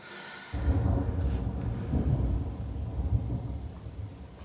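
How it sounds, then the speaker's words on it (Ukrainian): Distant artillery shelling from across a river near Kherson, heard as a sustained low rumble of booms that begins abruptly and rolls on continuously at moderate level, with no talk over it. "Обстріл почався з лівого берега."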